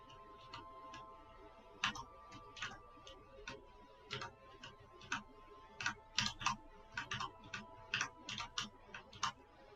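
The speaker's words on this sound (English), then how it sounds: "you can hear all the mashing of the keyboards" Computer keyboards are mashed in quick, irregular bursts of sharp clicks, fairly faint over a low steady hum in a quiet room.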